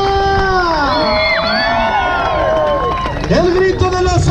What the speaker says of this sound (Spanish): Y que se oiga la bulla de Tierra Nueva.